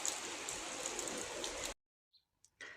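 Steady rain patters into puddles with a soft, close hiss, then stops abruptly, followed by a couple of faint isolated sounds.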